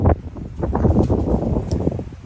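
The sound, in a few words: wind blowing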